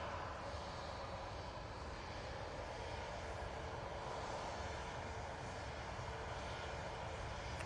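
Qatar Airways airliner crossing the runway at Manchester Airport, its engines a steady, broad roar that holds at an even level throughout, with no talk.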